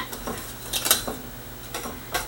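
A utensil stirs a blackberry mixture in a bowl, giving several irregular scraping clinks against the bowl, some louder than others, spread across a couple of seconds with no talk.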